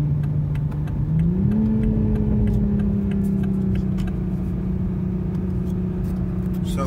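A 2021 Toyota Supra with the 3.0-litre turbo engine pulls hard, its steady drone rising in pitch as it accelerates and then holding a strong, even note, close and loud.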